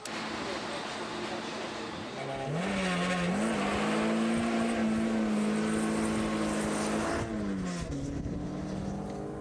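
A car engine revs and holds a steady drone as it drives hard around a track into a left-hand hairpin on sports tyres, pitch dipping and rising through gear changes.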